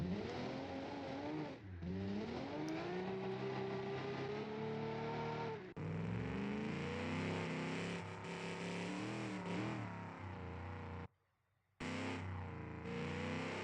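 Race cars in a BeamNG.drive AI practice session lap a long circuit, engines revving loudly and continuously with rising pitch sweeps as cars pass and shift, with a brief dropout near the end; no talking.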